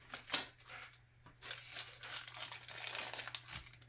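Plastic bag of Tamiya 1/35 scale Willys MB Jeep model kit parts being torn open, close-up crinkling and tearing in several bursts across a few seconds, fairly quiet with no talk.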